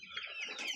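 Two-month-old chicks clucking and peeping close by, a steady cluster of bright, overlapping little calls over a short stretch.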